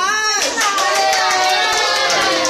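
Group of people clapping hands at a Christmas party, a dense burst of applause starting after a brief pause and continuing steadily, with some voices and cheering mixed in.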